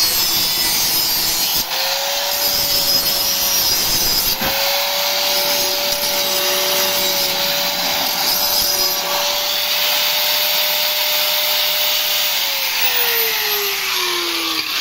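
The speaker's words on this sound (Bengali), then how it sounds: "এই শান্তা দিয়ে অলরেডি ধার দিয়ে দিল" Blades of a paddy-straw cutting machine are sharpened on a spinning grinder, giving a continuous loud, harsh grinding whir with a steady tone that drops slightly near the end, and no talk.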